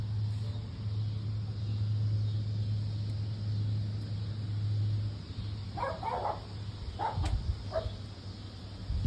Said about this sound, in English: Shut up barking at me, Max.